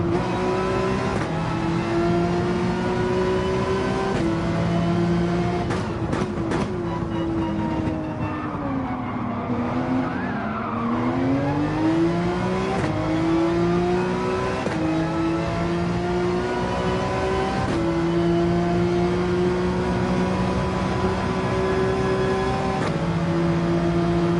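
A race car engine in Gran Turismo 7 holds a loud, steady high tone that dips as it slows and then climbs again while accelerating, staying continuous and close throughout with no talking.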